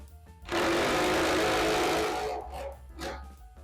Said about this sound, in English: it's as simple as just getting the right size hex drive bit and running these things in